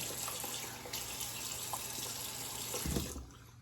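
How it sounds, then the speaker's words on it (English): A bathroom tap runs steadily as water is splashed on the face to wet it before shaving, a continuous close hiss with a brief heavier splash near the end and no talking. "So get my face a little wet."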